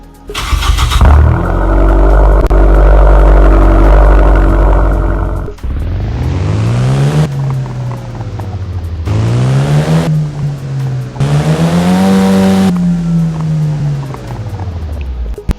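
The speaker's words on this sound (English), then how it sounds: "we're going to listen to the startup" A loud video-game Nissan car engine cranks and roars to life, then idles before being revved several times, each rev rising and falling in pitch.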